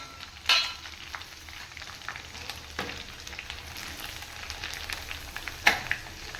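Drumstick leaves frying in hot homemade ghee give a steady low sizzle with scattered crackles and a couple of sharper pops, heard close and alone without talk.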